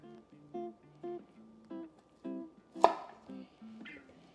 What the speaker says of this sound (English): You just angle your knife and then you slant the knife and cut through the carrot.